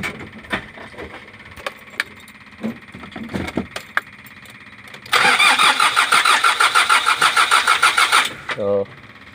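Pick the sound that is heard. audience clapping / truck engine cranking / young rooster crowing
truck engine cranking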